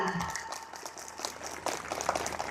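Scattered applause from an audience at an Islamic Ramadan study gathering in Lamongan, a light, crackling patter of clapping that is moderately faint and continuous, with some speech underneath.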